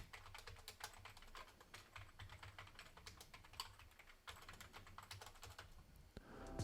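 Quick, clicky keystrokes on a mechanical gaming keyboard, typed steadily in irregular bursts with brief pauses, close and fairly quiet.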